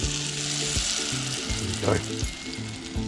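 Battered King George whiting sizzling in hot oil, a steady close crackle and bubble with a brief louder flare of spatter midway, under a low voice and some quiet talk.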